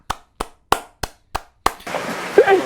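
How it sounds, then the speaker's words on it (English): Six sharp, evenly spaced single claps ring out close and loud against silence, followed by a murmur of voices and rustling. "Let's give him a clap."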